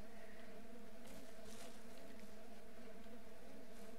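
Bees swarm around a hive in Ranch Simulator, a steady, faint, droning buzz that holds throughout with slight swells in intensity and no talking.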